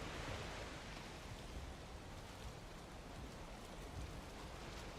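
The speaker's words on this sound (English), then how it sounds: "Oh, of course it's downpour." Steady heavy rain from a downpour in the video game Valheim pours down in a continuous dense hiss, loud and unbroken, with no voices over it.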